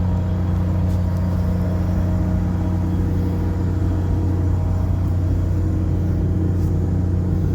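A Generac SG230 generator engine runs steadily at close range, a loud constant droning hum and rumble with no change in pitch or level throughout, alone with no talking.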